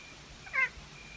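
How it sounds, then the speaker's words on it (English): An outdoor cat gives a single short, thin meow at night, faint and somewhat distant against a quiet background hum, with no one talking. "cat is crying at me"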